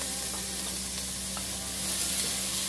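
Ground beef sautés in a pan, a steady dense sizzle that holds evenly throughout and swells slightly near the end.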